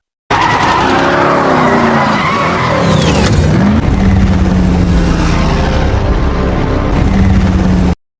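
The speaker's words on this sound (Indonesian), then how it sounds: "Toretto segera tancap gas menemui Ames." A car in a Fast and Furious film, Dom Toretto's, accelerates hard near a dam, with engine roar, screeching tires and a sweeping whoosh. The sound is loud, dense and continuous, layered like a film mix.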